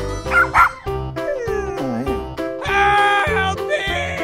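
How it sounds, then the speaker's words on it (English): A dog gives a couple of sharp yips and barks, followed by whimpering and a drawn-out howl-like whine, close and loud over a bouncy musical backing. "dog."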